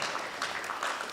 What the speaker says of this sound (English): A better round of applause.